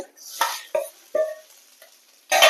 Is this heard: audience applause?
no